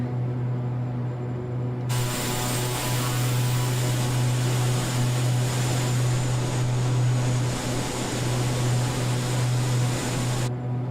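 Black Square analog King Air turboprop climbing in Microsoft Flight Simulator 2020, a steady droning engine hum with a strong low tonal whine, loud and continuous for most of the stretch.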